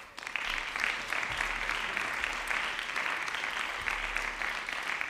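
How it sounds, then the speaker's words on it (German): Sustained applause from members of the Berlin House of Representatives during a parliamentary session, a steady dense patter of many hands filling a large chamber, moderately distant and even throughout. "Applaus"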